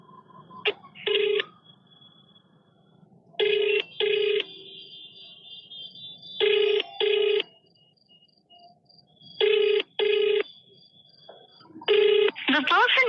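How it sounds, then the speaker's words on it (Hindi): A phone call to an excise officer rings repeatedly in a pulsed cadence of paired ring bursts separated by short pauses, loud and close, heard through the handset, with a faint electronic chirp at the end. "पूरा रिंग जाने के बावजूद उन्होंने फोन नहीं उठाया"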